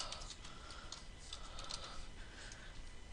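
Keystrokes of a name being typed on a computer keyboard, a run of quiet, light clicks at a steady, uneven pace, close by over a soft background hiss.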